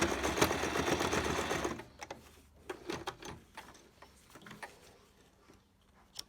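A sewing machine stitches across a cloth face mask in a quick steady whir lasting under two seconds, followed by sparse clicks and handling taps as the fabric is adjusted, close and fairly quiet.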